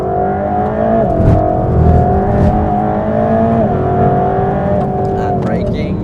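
A Mercedes-AMG GT3 race car engine accelerates out of a corner on track, a steady loud drone rising in pitch under a person's voice.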